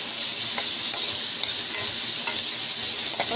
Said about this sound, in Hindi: और फ्राई कर लेती हूँ सारी सब्जियों के साथ